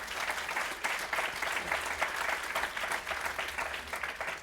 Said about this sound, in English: I'm glad to hear you clapping